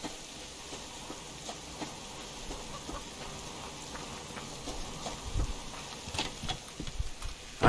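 Rain falls steadily in the survival video game Subsistence, a soft even patter with scattered heavier drops and a few low thumps building near the end, no voices.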